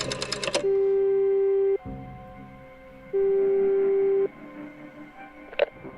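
A phone ringing in a point-and-click adventure video game, two long steady electronic ring tones separated by a pause, loud and close over a low ambient hum with a short click at the end.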